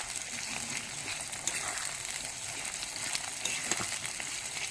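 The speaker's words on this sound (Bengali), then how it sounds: "পেঁয়াজগুলো দিয়ে দিলাম। এবারে এটা ভালো করে ভেজে নিতে হবে।" Onions fry in a pan for a home-style chicken and potato curry, giving a steady, fairly loud sizzle and crackle that runs without break and with no voices.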